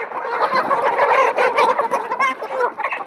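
Large chickens of about three kilograms cluck and squawk loudly and continuously up close while being grabbed and held.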